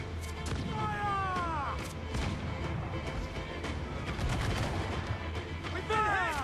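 Ship cannons fire in the naval video game Assassin's Creed IV: Black Flag, repeated booming blasts and crashes over a low rumble, with whistling shots sweeping past and voices shouting between volleys.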